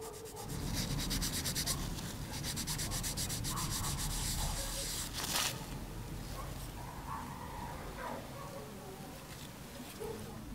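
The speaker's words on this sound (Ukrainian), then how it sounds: "Малюнки зітремо, вони будуть зайві." Fast, continuous scratchy sanding of paint off a cork close by, a rapid rasping rub that shifts in tone midway and keeps going quieter toward the end.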